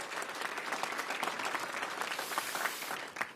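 A crowd at an airport terminal grand opening near an air show gives sustained, dense applause, steady and close for several seconds before tapering off.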